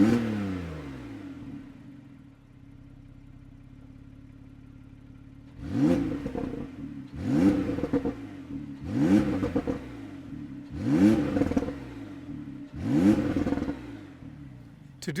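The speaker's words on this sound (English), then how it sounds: "These sound incredible on a cold start, but wait till these valves open up." Porsche 911 991.2 Carrera S Cabriolet with exhaust valves open, idling quietly and then blipped in five sharp, loud throttle revs at steady intervals, each rising and falling back.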